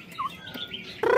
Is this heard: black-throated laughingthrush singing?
yes